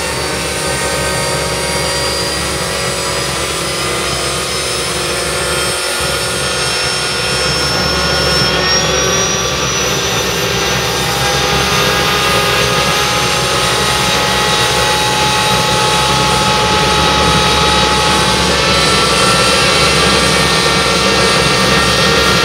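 A homemade gas turbine engine runs with a loud, continuous roaring whine, steady high tones rising slightly as it spins up, with no pauses over more than twenty seconds and no audible talk.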